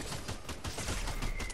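Gunshots in the video game Fortnite come as a quick, fairly faint string of rapid cracks at a steady rhythm, sounding somewhat distant.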